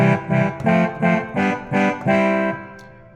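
A Yamaha DGX670 digital keyboard in poly mode plays short repeated chords in a quick pulsing rhythm, six stabs, followed by a fading held note, loud and alone.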